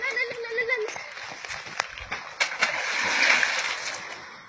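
A stone tossed into a puddle at an abandoned site in Irtuy, with a few sharp knocks and a brief watery splash and slosh following a short spoken phrase at the start, fairly close.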